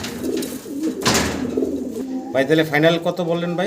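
Pigeons in a cage, Lahori breed among them, give repeated low cooing close by, while someone speaks over the birds near the end.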